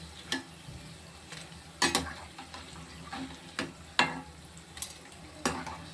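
Urad dal vadas fry in hot oil with a soft, continuous sizzle, broken by several sharp clacks and scrapes of a utensil against the pan.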